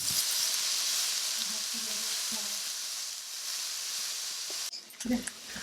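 Bacon bits sizzle in a pan on a stovetop with a steady hiss, then brief stirring clatter near the end.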